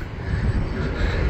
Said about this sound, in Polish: No i jest samolot.